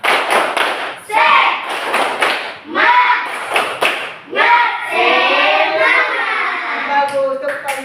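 A classroom of young pupils claps together in a rhythmic spirit clap, bursts of sharp, loud handclaps alternating with children chanting in unison, close and lively.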